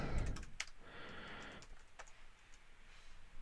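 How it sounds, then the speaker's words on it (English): A computer keyboard clatters with a quick burst of close typing, a run of soft key clicks followed by a few separate, sharper taps, alone and fairly quiet. "So when I do a search for Andy Warhol,"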